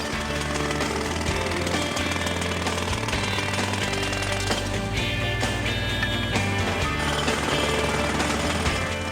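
A jackhammer breaks asphalt on a construction site in a loud, continuous rapid hammering that runs for several seconds with a low mechanical drone beneath, and no talking.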